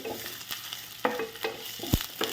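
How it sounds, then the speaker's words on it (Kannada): Ginger dropped into hot oil sizzles and crackles in short bursts, with the clatter of a spoon stirring in the pan, close and fairly quiet. "ಎಣ್ಣೆ ಬಿಸಿ ಆದ ನಂತರ ಶುಂಠಿ ಹಾಕ್ತಿದ್ದೇನೆ"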